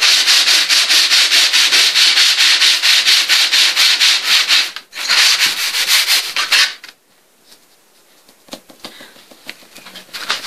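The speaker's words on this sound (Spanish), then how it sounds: "Tomo una lija número 100, de grano 100, y comienzo a lijar mi tablita." Rapid, rhythmic back-and-forth scraping of 100-grit sandpaper on a small wooden board, loud and close, then it stops and a few lighter rubbing strokes follow.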